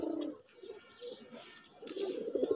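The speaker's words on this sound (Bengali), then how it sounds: "আমি এই কবুতর জোড়াটা বিক্রি করব" A pair of sky-blue Golla pigeons coo nearby in low rolling bursts, one at the start and a longer one near the end, with a quieter pause between.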